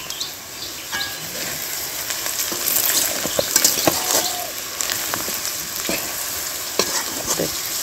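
Spices with ginger garlic paste fry in a pan, a steady close sizzle and crackle broken by scraping stirs and clinks of a utensil against the pan.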